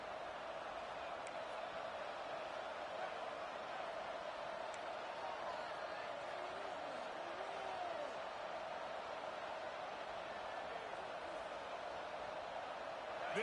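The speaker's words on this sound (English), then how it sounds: "This place is roaring, and it's going to be so hard to operate under these conditions." Dense, steady roar of a large stadium crowd at an American football game, loud and unbroken throughout, with faint commentary voices beneath.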